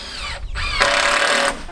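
A power drill drives screws into wood for a workspace upgrade, whirring up briefly, pausing, then running again in a louder, steadier whine that cuts off, close and loud without any talking.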